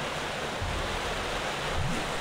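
A waterfall in the game Psychonauts pours as a loud, steady broadband rush, continuous and close with no pauses or voices.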